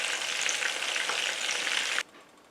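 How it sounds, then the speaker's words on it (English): Meatballs fry in olive oil with a steady, loud, dense sizzle and crackle that runs for about two seconds, then cuts off abruptly into near quiet. "the frying does give a good taste to the meatballs, particularly when you do it in good olive oil"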